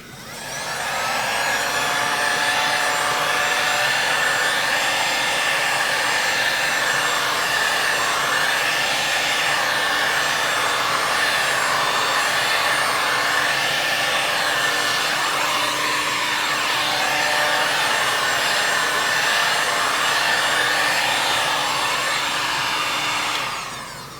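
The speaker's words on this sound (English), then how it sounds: "A great way to do that is to use your heat gun, and I like to warm the panel to around 120 degrees." Heat gun blowing hot air to warm a Toyota RAV4 body panel for repair, a loud continuous whirring hiss that holds steady for over twenty seconds before cutting off.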